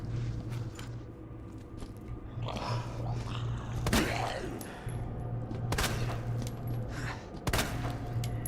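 Sharp, loud gunshots in the Resident Evil 2 video game, fired at a zombie, come as three or four separate blasts over a steady low game hum and faint background clatter.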